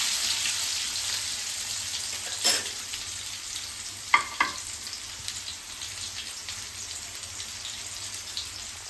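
Potatoes frying in a pan for a chicken curry, a steady soft sizzle throughout with a few brief clinks and stirring knocks.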